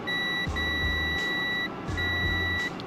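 A multimeter's continuity beeper sounds in two sustained tones during testing of a wine fridge circuit board, over a low background hum with no talking.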